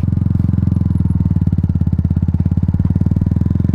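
A Yamaha MT-125 motorcycle engine holds a steady throttle through a slow U-turn, a loud, even, rapid thrumming pulse that stays constant and close with no voices.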